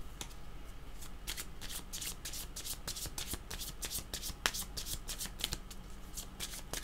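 Tarot-style cards are shuffled by hand for a reading, a quiet, continuous riffle of crisp flicks and taps repeating rapidly and close by, with no talking.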